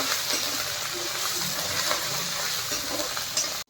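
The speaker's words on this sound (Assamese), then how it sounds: "এইটো ভাজি লওঁ" Steady sizzling of panch phoron spices frying in hot oil, continuous and close, with occasional stirring clinks, then cutting off abruptly at the end.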